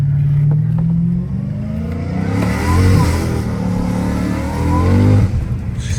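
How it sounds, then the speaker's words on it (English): A Dodge Challenger Hellcat Redeye engine revs and drones steadily up close, pitch rising and falling, with a wash of rain hiss over it. "if you're gonna be like driving a Hellcat in the rain, you gotta be driving at higher gears"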